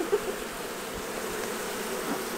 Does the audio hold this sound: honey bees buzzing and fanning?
yes